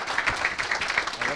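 Audience applause at a university innovation awards ceremony, a steady wash of clapping lasting the whole short moment after a third-place prize is announced, heard mixed with some talk.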